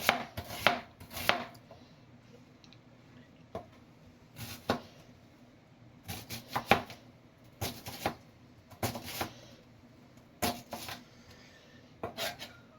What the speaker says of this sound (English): Everybody else has their own methods of cutting up onions.